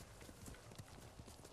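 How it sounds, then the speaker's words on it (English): Steady clip-clop of horse hooves trotting at an even pace in the video game Ghost of Tsushima, fairly quiet, with a low rumble of game ambience underneath. "You're a good horse, Nobu."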